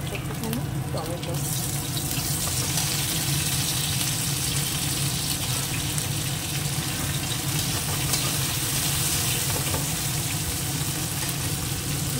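Chopped onion, green chili and tomato fry in a pan with a continuous hiss and sizzle, mixed with soft stirring and clinking, while someone speaks quietly over it.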